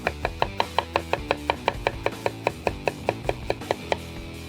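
A knife chops vegetables steadily on a cutting board, about four crisp, evenly spaced strokes per second, close and clear with no talking.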